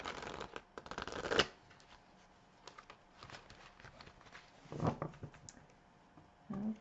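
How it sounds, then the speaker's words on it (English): Card shuffling in a few quick riffling bursts with pauses between, a dense flutter early on and shorter rustles later, close and fairly quiet. "These didn't want to shuffle, so we'll try it again."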